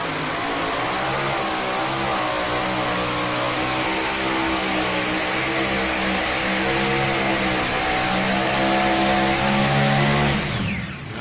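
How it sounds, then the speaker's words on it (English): A competition pulling tractor called the Moneymaker roars down the track at the Sandwich Fairgrounds during an NTPA Grand Nationals session, its loud engine howling steadily with rising pitch for about ten seconds before abruptly cutting off. "As we tighten the chain on the Moneymaker here, and Brett Berg gets ready to take his turn at the Sandwich Fairgrounds"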